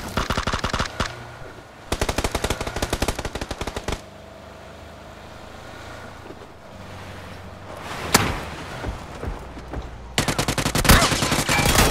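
Automatic gunfire in a PUBG squad match on the Erangel map: loud, rapid machine-gun bursts come in several separate volleys, with quieter gaps of ambient game sound between them.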